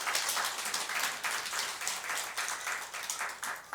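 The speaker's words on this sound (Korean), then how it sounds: "박수 한번 하겠습니다" A room full of people claps steadily for a few seconds, a dense patter of applause with no voices, at a church service.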